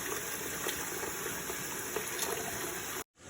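Tap water runs steadily as a salted pig's tail is washed to rinse off salt and fat, a constant close rushing splash that cuts off briefly near the end.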